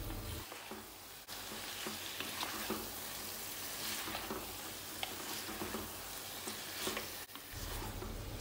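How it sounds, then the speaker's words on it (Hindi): Chicken and bottle gourd fry and get stirred in a pan, giving a steady, fairly loud broadband sizzle with scattered scraping and clinking strokes throughout, with no talking. "और अब हम सब चीज़ों को अच्छी तरह से मिक्स करेंगे।"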